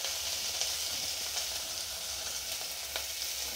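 Onions and curry leaves with turmeric fry in hot oil for a drumstick saaru, giving a constant close sizzle with faint scrapes from occasional stirring and no talk.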